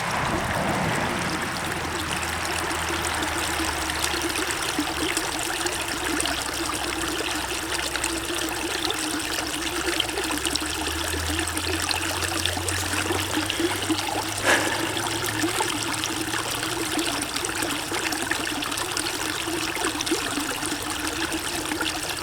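A small creek flows steadily around a stone, a close, continuous trickle and babble of water with no voices.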